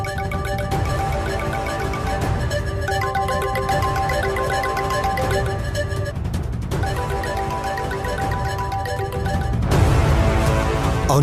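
A mobile phone ringtone plays as a loud, continuous electronic melody of repeating tones, with a brief crash-like burst of noise near the end.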